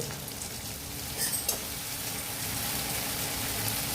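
Tomatoes with a little sugar fry in a pan for a bhetki fish curry, giving a steady close hiss and crackle with a couple of brief stirring clinks.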